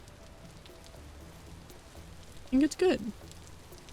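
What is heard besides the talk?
rain in the video game Vintage Story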